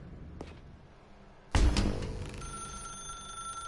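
An old telephone in The Stanley Parable starts ringing sharply after a quiet lead-in, its bright bell tone sustaining and ringing on loud and close.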